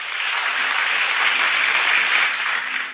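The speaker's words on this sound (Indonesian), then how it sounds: "Beri tepuk tangan ya buat Tuhan Yesus." A church congregation applauds together, a dense, steady wash of clapping that stays loud and even for about three seconds before tapering at the very end.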